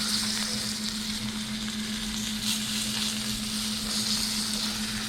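Rainbow trout frying in butter in a pan, a steady soft sizzle with faint crackle running evenly throughout, close and moderately quiet, with no talking.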